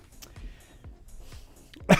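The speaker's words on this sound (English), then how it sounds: "Excuse the cough" A single sharp, loud cough near the end, preceded by quieter shuffling and background noise.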